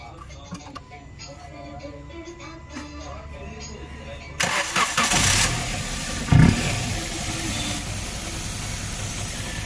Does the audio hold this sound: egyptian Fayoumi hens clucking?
no